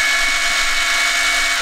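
A power drill boring steadily with its bit, a continuous loud whine holding even for the whole stretch with no pauses.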